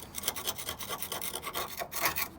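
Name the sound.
scraping loose rust off car bodywork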